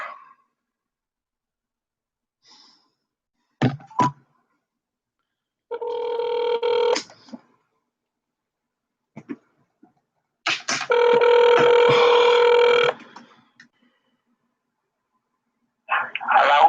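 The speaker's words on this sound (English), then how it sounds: "I'll call this old guy back and see if I can." A landline telephone call: a few short dialing tones, then a ringback tone in two bursts, the second a long harmonic ring of about two seconds, with near silence between them.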